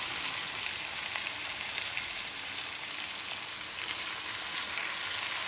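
Chicken browning in oil in a cooking pot, with a steady, dense sizzle and crackle that continues unbroken throughout, fairly loud and close, with no voices.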